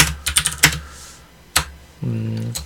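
Keystrokes on a computer keyboard while entering a Linux command and working in the vim editor, a quick burst of close, crisp clicks followed by two isolated taps, then a short steady tone.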